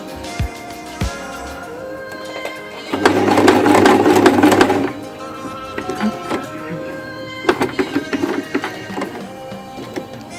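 A sewing machine stitching a zipper, a dense buzzing two-second run of needle strokes followed by quieter stops, clicks and short bursts of stitching, with no voices.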